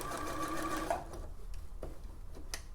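A sewing machine runs steadily, stitching fabric for a Vogue pattern with a dense mechanical whir, then stops and gives way to a few light clicks and taps near the needle.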